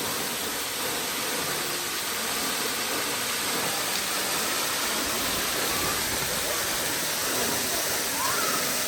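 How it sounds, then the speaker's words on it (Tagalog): Agbalala Falls waterfall roaring steadily up close, a loud, dense broadband rush of falling water that fills the whole stretch without letting up. "Ang lakas ng patak ng tubig."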